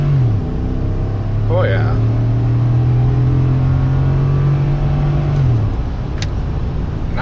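A pickup truck's engine accelerates while merging onto a highway, heard from inside the cab. The drone climbs steadily in pitch for about five seconds, then drops away under road noise, and a voice briefly speaks over it.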